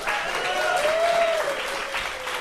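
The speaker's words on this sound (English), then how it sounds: "How about a round of applause for Sean Hatton, everyone?" A talk show studio audience claps in a sustained round of applause, dense and even, with a faint tonal whistle drifting through the clapping.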